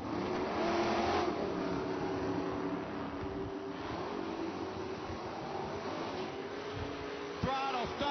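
Camaro and Corvette at an IHRA Pro Am drag race, a sustained distant engine roar that holds steady and then rises at the end, with a commentator talking over it throughout.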